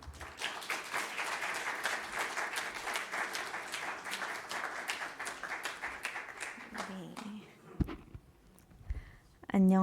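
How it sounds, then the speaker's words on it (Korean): Applause from a church congregation at a Friday worship service, steady dense clapping for about seven seconds that fades out, followed by a brief voice. "여러분 큰 박수로 다시 환영해 주시면 감사하겠습니다"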